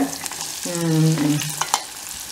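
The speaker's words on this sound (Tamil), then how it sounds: "இப்போ வெங்காயம் நல்லா வதங்கி இருக்குல்ல, நிறைய எண்ணெய் விட்டுருக்கிறதுனால" Onions fry in plenty of oil in a pan, a close sizzle broken by scraping stirs and sharp clicks near the end, with a brief tonal squeak midway.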